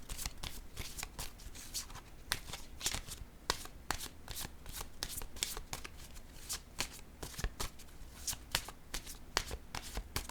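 Cards shuffled continuously during a card reading: a quiet, steady stream of crisp riffles and flicks with no voice.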